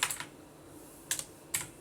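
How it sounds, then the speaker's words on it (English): Quiet, close key presses on a calculator while numbers are entered: a quick pair of taps, a pause, then two more single clicks, each one short and crisp. "type it in my calculator here"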